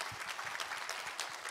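Congregational applause in a church service, a brief, even wash of many hands clapping together at moderate distance.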